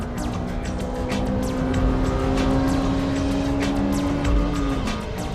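Honda Integra Type R engine at full throttle approaching a hairpin on a track, a loud sustained rising engine drone with steady revving and some tire noise, heard from inside the car with no pauses.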